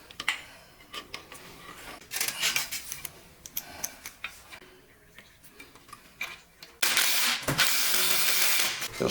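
An Allen wrench turns rounded bolts on an Auto Sprinter seat bed, giving irregular metallic clicks and ratcheting scrapes, close by, before a louder sustained rushing noise in the final seconds.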